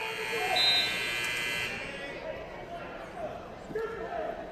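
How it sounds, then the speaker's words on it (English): A loud buzzer sounds at a high school wrestling match, a sustained tone for about a second and a half under a noisy gym crowd and talk. "Got to watch those buzzers."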